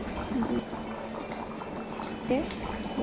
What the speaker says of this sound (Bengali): জলটা খুব গরম হয়েছে, বলকা উঠছে